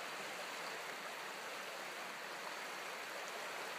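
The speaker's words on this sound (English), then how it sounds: "There's our hose siphoning the water from the basement, which filled up again." Floodwater from a flooded basement runs out through a siphoning hose, a faint steady rushing hiss that stays even throughout, with no voices over it.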